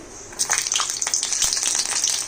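Garlic cloves hit hot mustard oil on a gas stove and crackle into a lively, bright sizzle that continues close and loud with brief spattering pops.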